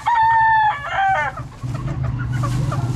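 Close, loud rooster crowing rings out in a drawn-out call, then chickens cluck steadily in the background of a farm setting.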